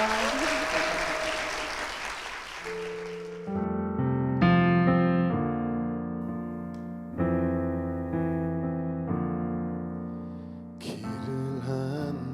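Audience applause rings out for a few seconds in a church setting and then gives way to sustained keyboard chords that ring on, with a brief burst of noise near the end.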